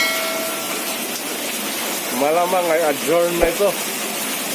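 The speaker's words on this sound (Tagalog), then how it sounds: "To be continued na lang kasi umuulan." Steady rain falling outdoors during a fishing trip, a broad even hiss throughout, while someone speaks briefly over it.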